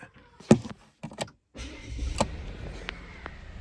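A 2021 Volvo S60 engine cranks and catches after a few scattered clicks, then settles into a low, steady rumble with faint mechanical whirs on top.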